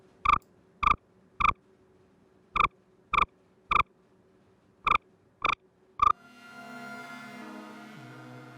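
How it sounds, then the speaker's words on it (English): A synthesizer square wave with altered pulse width makes short frog-like croaks, nine sharp evenly clipped pulses in small groups, followed by a softer sustained buzzing tone at the end. "by changing the pulse width of the square wave, we have more of a frog sound"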